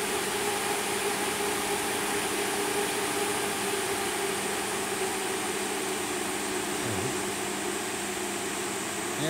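A GMCAIR heat recovery ventilation unit runs with a steady, dense whooshing hum of airflow. The fan noise stays constant and loud throughout, with no clear wind-down audible, and no voices are present.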